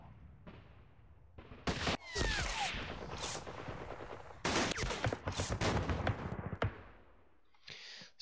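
Rattling bursts of gunfire and explosions from the John Tiller Campaign Series: Rising Sun wargame, several loud volleys of shots in separate clusters with short gaps between them and no talking.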